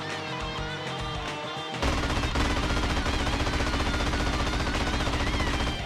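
Heavy in-game gunfire in GTA San Andreas as couriers are shot: a quiet stretch breaks after about two seconds into a loud, dense, continuous burst of automatic fire that runs to the end.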